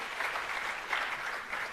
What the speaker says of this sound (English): Let's give Mr. Hindley another big round of applause